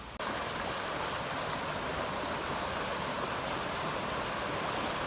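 Water rushing steadily from a mudslide off a wildfire burn scar at La Veta Pass, Colorado, a loud, continuous broadband roar of flowing water close by, with no talk.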